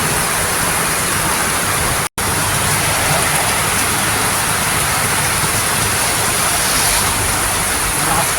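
Steady, heavy rain pours over open farm fields where rice farmers have been waiting for it, a dense unbroken hiss that drops out for an instant near the start and then continues evenly to the end, with no voices.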